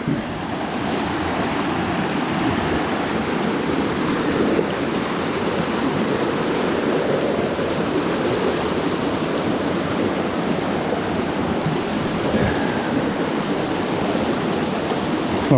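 Stream swollen after 32 mm of rain, rushing water roaring steadily and close with a broad hiss of flow and some wind buffeting, continuous and loud with no talk.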